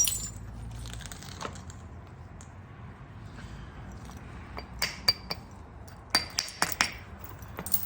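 Coastal plains chert being thinned by flint knapping gives a handful of sharp, clinking stone strikes, sparse at first and then clustered near the end, close by over a quiet background.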